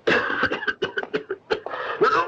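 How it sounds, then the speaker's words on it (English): A man with a bullet lodged in his lung coughs after drinking water in a desert Western, a rapid burst of close, harsh coughs and hacking gasps lasting a couple of seconds. "When I drink water, it makes me cough."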